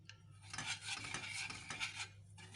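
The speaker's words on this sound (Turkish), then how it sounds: "Karıştırmaya devam" A spoon stirs milk into a mosaic cake mixture of butter and cocoa in a pot, a soft continuous scraping swish close by, faint and without talk.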